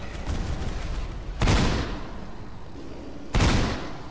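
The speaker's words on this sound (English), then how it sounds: "I shot him." Two loud, sharp gunshots ring out about two seconds apart in the video game Dinosaurs Don't Drive Racecars, each a booming crack that decays over a steady rumbling background.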